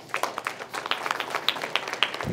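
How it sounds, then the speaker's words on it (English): A modest audience at a career-success talk claps steadily, a patter of individual hand claps lasting a couple of seconds with no voices on top. "Give a round of applause for Akshay, guys."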